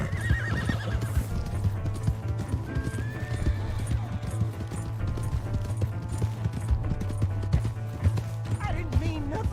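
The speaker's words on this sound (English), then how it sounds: "That's my horse!" Horse hooves clip-clop steadily amid Red Dead Redemption 2 game sounds and a low hum, with a whinny breaking through; people talk over it.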